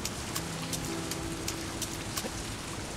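Rain drips through a mine ceiling in the video game TOBY: The Secret Mine. A steady, even hiss carries scattered louder drip ticks, moderately faint and with no talking over it.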